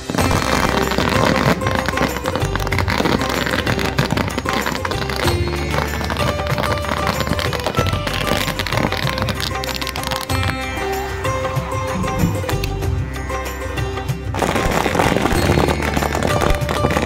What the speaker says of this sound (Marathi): फटाक्यांची आतिषबाजी करण्यात आली।